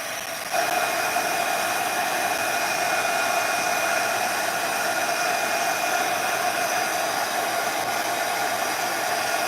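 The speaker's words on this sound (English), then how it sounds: "So if you don't want to hear the heat gun, I suggest you just lower your volume or turn your volume off." A heat gun blows steadily to set Astro pastes, a loud constant whirring hiss with a faint tonal whine that switches on abruptly and runs unbroken without any talk.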